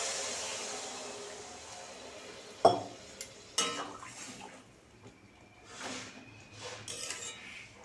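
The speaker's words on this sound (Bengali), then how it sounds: "আমি থালা দিয়ে ঢেকে দিয়েছি" A plate is set over a pan of morola fish and potatoes simmering in water on a gas stove, giving a few sharp metallic clinks and clatters over a soft background hiss.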